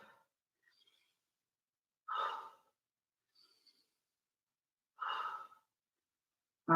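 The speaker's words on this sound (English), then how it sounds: "Big breaths into the belly this time." Two deep, slow exhalations about three seconds apart during a belly-breathing exercise, close and breathy against near silence.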